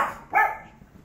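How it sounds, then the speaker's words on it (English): A female puppy lets out a single sharp bark indoors, loud and close, preceded by a brief higher yelp and followed by quiet. "She barks when people talk outside."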